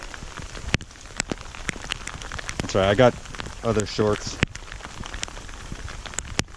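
Steady rain pours down outdoors on a mountain hike in the Adirondack High Peaks, a constant close hiss of drops on surfaces with a few sharper taps, while a person talks briefly partway through.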